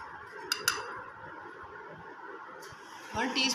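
A utensil clinks and scrapes against a bowl while homemade chocolate cake batter is stirred, with a few sharp taps and soft mixing under a woman's speech.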